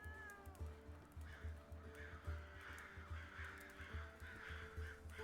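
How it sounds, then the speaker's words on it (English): Evening birdsong in the colony-building video game Clanfolk, with soft calls and cawing cries over a low rhythmic ambient pulse, all fairly faint and continuous. "I can hear the evening bird song already."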